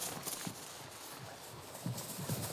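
A foal's hooves clip-clop in a quick galloping rhythm, faint and a little distant, with light irregular thuds over a short stretch and no talking.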